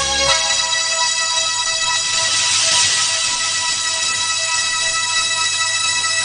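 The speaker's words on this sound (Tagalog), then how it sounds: "Ang telepono!" A telephone rings in a dubbed Stephen Chow gambling film, a steady, loud electronic tone that repeats continuously on its own with no talking.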